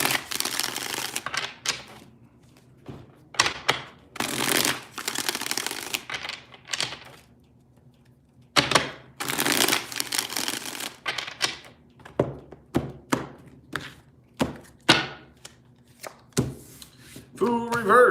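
Tarot cards shuffled by hand, sharp riffling bursts and soft slaps in irregular clusters separated by short pauses, close and crisp with no talk over it.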